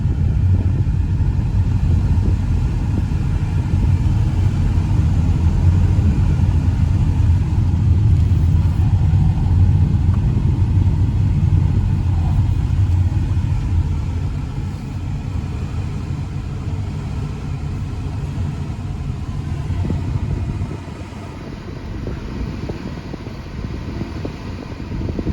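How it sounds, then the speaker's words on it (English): A car engine with a bad misfire idles and runs steadily, a loud low rumble with uneven, stumbling pulses that continues throughout and eases slightly in level toward the end. "I think we got a bad misfire somewhere."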